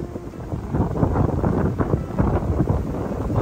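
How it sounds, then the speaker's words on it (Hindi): Strong wind roars steadily through a burnt forest during a forest fire, gusting and buffeting close to the microphone for several seconds with no talk. "बहुत तेज हवा चल रही है ना, हवा चलती है तो फिर आग बहुत जल्दी पकड़ लेती है"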